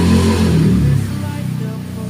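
A motorcycle with a loud exhaust passes close by, its throaty engine drone strongest at first and then fading and wavering over about two seconds.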